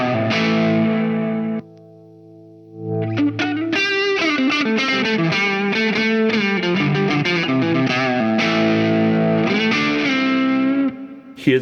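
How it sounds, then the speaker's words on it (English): Electric guitar played through reverb feeding a distortion effect, sustained tails grinding and intermodulating with new notes; a chord rings, briefly cuts out, then a dense run of distorted, reverberant notes plays loud and alone. "you do the reverb into distortion thing is that the notes that are still sounding on the tail of the reverb are now intermodulating"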